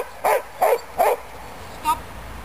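A dog barks three times in quick succession during a dog training session, then gives one shorter, softer bark after a pause, close by with no talking.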